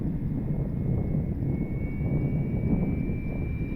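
FMS Cessna 182 RC model airplane flying on a windy day, a steady buzzing electric motor drone with a thin rising whine over rumbling wind noise, continuous and moderately distant.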